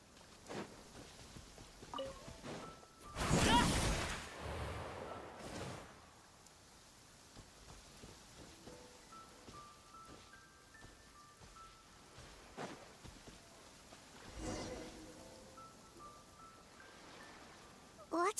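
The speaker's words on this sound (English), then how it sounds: "Taking a stroll in the middle of a downpour" Steady rain hisses through a downpour in the game Genshin Impact, with one brief louder splash or gust early on, while soft game tones and faint ambience sit under the continuous wash.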